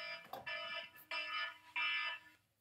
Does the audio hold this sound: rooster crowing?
no